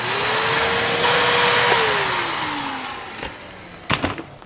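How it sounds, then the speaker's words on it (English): A vacuum cleaner runs steadily on grimy old truck seats, its motor whine rising slightly and then sagging as the nozzle is worked over the upholstery, with a few clunks and bumps near the end. "Step one is going to be to vacuum this crud off of it."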